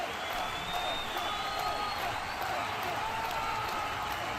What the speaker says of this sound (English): You hear the crowd trying to get behind Lacey, trying to get her going, trying to pump her up.